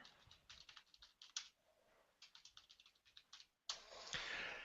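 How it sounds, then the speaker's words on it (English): Bursts of keyboard typing, quick clattering keystrokes with short pauses between runs, close and clear, followed by a louder rush of noise at the end. "He's typing something."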